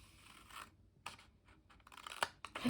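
Quiet, close scissor snips and scraping cut into the corner of a piece of card stock in a few short bursts, with soft rustling between them.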